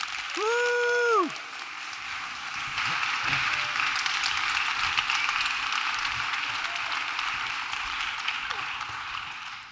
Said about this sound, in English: Woo, big round of applause.